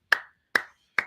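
Three sharp, separate hand claps about half a second apart, close and dry, each followed by a short ringing decay, with no talk.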